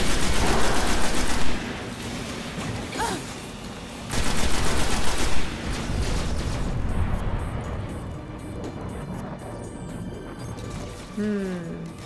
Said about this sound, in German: Was haben die denn geschossen?